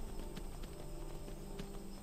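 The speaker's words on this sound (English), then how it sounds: "I guess I'm just gonna Baja on this horse through the swamp." Horse hooves clip-clop at a steady riding pace through a swamp in Skyrim, close and continuous over a constant game ambience.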